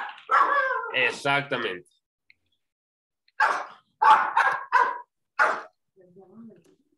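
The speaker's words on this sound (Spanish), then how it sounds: "¿Qué es lo que está ladrando?" A small pet dog at home gives a quick run of five or six sharp, fairly close barks, coming in after a brief spoken word, with a softer whine or yip trailing off at the end.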